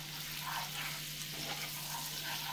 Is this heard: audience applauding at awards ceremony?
no